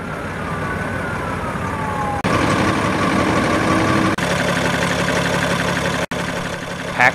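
The 8.3-liter PX8 diesel engine of a 2009 Peterbilt 340 truck idles loudly close by, a constant low rumble with a faint high whine drifting across it, broken by a few abrupt cuts.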